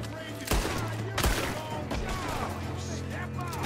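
Gunfire in Red Dead Redemption 2, a few loud, sharp shots and bursts close by with reverberating tails, amid game noise and a voice shouting.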